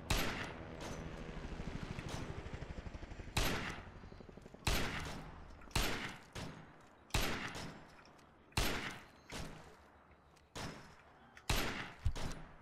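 Gunfire during a siege in the video game State of Decay: a sustained volley at first, then separate loud single shots cracking out at irregular intervals, each decaying quickly into a quiet background.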